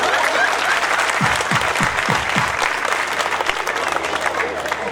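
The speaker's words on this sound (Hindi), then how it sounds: "ताली बजा।" An audience at an annual religious festival for Shri Raman Bihari Lal claps steadily, a dense sustained applause from a large crowd with some voices mixed in.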